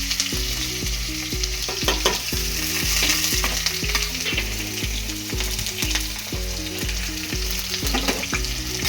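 Chopped onions fry loudly and steadily in a pan on the way to browning, a dense continuous sizzle that runs the whole time, with a soft melodic tone sitting underneath.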